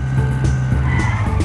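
A car drifting in the Sneaky Sasquatch video game, its tires squealing steadily over a constant engine drone, loud and close throughout the short burst.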